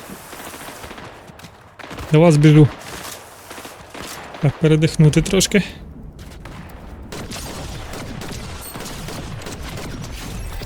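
Bursts of gunfire in the video game Fortnite, rapid volleys of shots in two clusters amid constant game noise, with someone talking over them.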